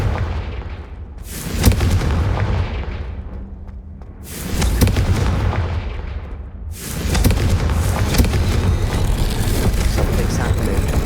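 Three heavy booming blasts from the Confringo fire spell in the video game Hogwarts Legacy, each with a long rumbling decay, loud and close, over a constant low game background.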